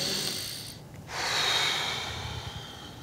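Deep slow breathing during an abdominal massage, one soft breath sweeping in and out up close, with no talking.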